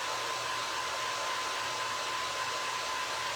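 A hair dryer blows steadily on a Valentine box craft project, a loud, constant whooshing roar with a thin whine and no break, and nobody speaks.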